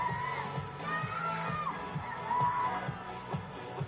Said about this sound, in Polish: Wielkie, wielkie, w pełni zasłużone brawa